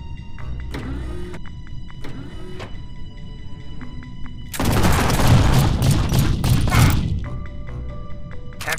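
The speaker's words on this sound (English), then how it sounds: "Heavy machine gun." Heavy machine gun in G2 Fighter Nova Beta, a loud burst of rapid booming fire lasting a few seconds, set between electronic whirring and beeping game effects.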